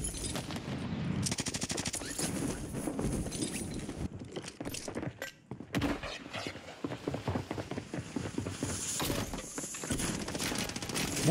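Gunfire in the Warzone video game: rapid automatic bursts crackle in close, dense volleys with short gaps between them, mixed with gameplay sounds and footsteps.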